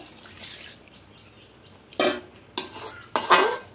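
Chicken being mixed in a pot with added water: a faint wet clatter at first, then three distinct louder scrapes and clinks of a utensil against the pot near the end, with no talking.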